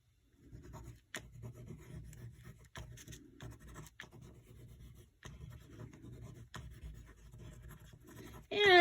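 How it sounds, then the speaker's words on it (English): A pencil scribbles on scrapbook paper in steady, close, quiet scratching strokes, with brief pauses between bursts. "I'm just scribbling. Trying to get some of this pencil"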